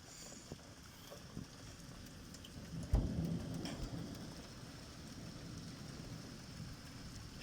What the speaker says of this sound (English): Non-stop lightning.